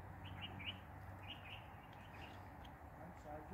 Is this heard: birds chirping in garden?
yes